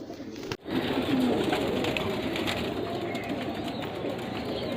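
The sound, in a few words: pigeons cooing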